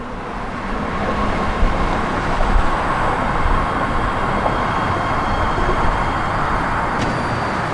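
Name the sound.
BART train pulling into a station in San Francisco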